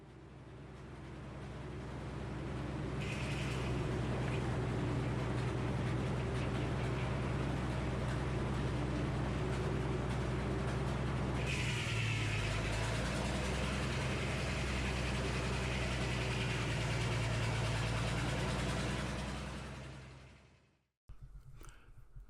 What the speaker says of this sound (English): we've got a 100 horsepower Minneapolis Moline engine driving this saw blade.